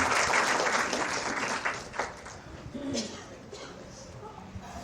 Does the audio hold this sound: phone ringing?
no